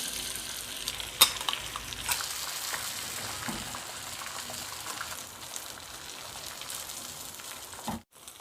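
Chapli kabab mixture of chicken fries in a pan with two spoons of oil, giving a steady soft sizzle and crackle like light rain, near and moderately quiet, with a couple of brief clinks and no talking.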